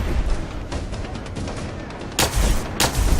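Shots from a CP-35 pistol in Fallout 4: a steady low rumble of ambient game noise, then two loud, sharp reports close together near the end.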